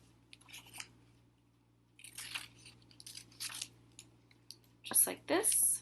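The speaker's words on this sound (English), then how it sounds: "I'm going to go through each of these rectangles and I'm going to cut out each of these squares carefully" Scissors snip through paper to cut out small squares, with several short crisp bursts of cutting spread across the clip, the last ones louder and closer, while a person speaks briefly over a low steady hum.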